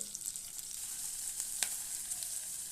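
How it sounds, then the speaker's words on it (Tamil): Chopped onions, cumin seeds and dried red chillies fry in hot oil for tomato chutney, giving a continuous close sizzle with small crackles and pops, with no voices. "ஒரு 2 வெங்காயம் கட் பண்ணி வச்சுட்டு அதை போட்டுக்கலாம்"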